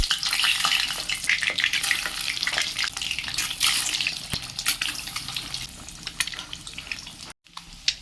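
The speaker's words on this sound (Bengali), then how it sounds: "কড়ায় ডিমগুলো ভাজার জন্য এখানে একটা সর্ষের তেল দিয়ে দেবো" Eggs fry in mustard oil in a wok with a busy, crackling sizzle and scattered spatters, close and continuous, with a brief dropout near the end.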